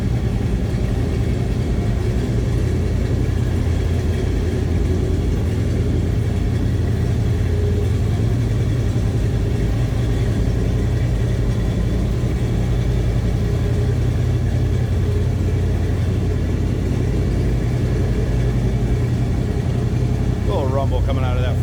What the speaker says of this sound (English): that big block sounds healthy.